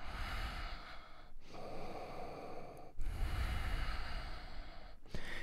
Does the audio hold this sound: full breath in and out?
yes